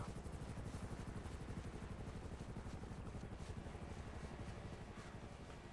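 A helicopter hovers nearby in GTA 5, its rotor giving a fast, steady thudding chop under a broad whooshing engine roar that holds loud and unbroken throughout.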